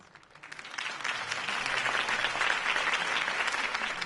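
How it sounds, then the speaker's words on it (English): A crowd bursts into applause after a campaign speech, clapping swelling quickly and holding steady and loud for several seconds. "could have heard that applause"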